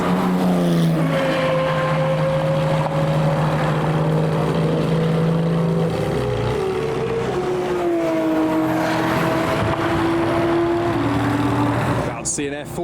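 Lexus LFA and other hypercars, including a Ferrari F40, F50 and McLaren P1, race and overtake on a track, engines droning steadily with shifting pitch throughout, with a commentator talking over the engine noise.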